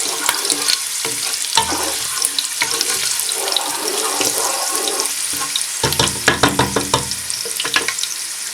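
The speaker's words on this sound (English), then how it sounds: "Give it a bit of stir." Green chilies and crushed chilies fry in a pan for rajma masala, crackling loudly and close while a utensil stirs them. Busy clicks and scrapes come in bursts, growing denser toward the end, with no voices.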